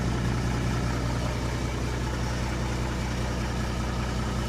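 An old Mack R-611T truck's diesel engine idles after a cold start, a steady, loud, low rumble with an even throbbing pulse and no break or rev change.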